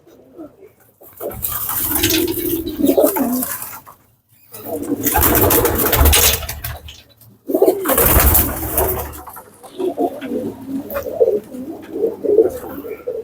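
Flying pigeons coo repeatedly in soft, throaty bursts, several birds overlapping with short pauses between calls, close by.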